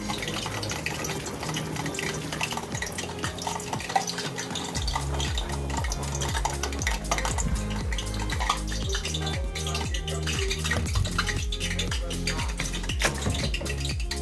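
Oil heats in a pan while moisture pops out of it in small crackles, a busy, steady sizzle with faint clinks and scraping of kitchenware throughout, no voices.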